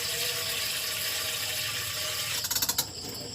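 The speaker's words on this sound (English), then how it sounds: "now I prepared here a pot and I add water" Water running into a cooking pot, a steady rushing hiss that ends in a few short splashy bursts near the close, heard alone without talk.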